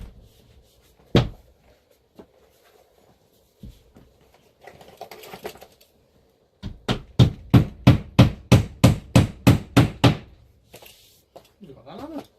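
Hammer tacking nails to fix plasterboard in a garage, first a few scattered knocks, then a rapid run of about a dozen sharp, evenly spaced blows, close and loud, with faint sounds of movement around them.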